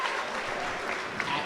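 A crowd of North Clay Cardinals fans at a high school championship basketball game claps in a steady, fairly distant wash of applause.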